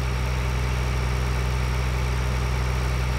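In Farming Simulator 2013, a tractor engine idles in a steady low throb with an even, unbroken rumble, close and loud, with no talking over it.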